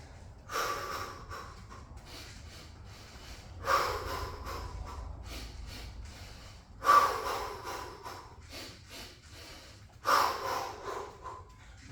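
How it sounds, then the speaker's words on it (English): Heavy breathing during a garage workout: four loud, forceful exhalations or snorts arrive about every three seconds, with softer breaths between them and no speech. "Breathing is amazing. Especially when you're doing these workouts, you want to breathe, oxygenate"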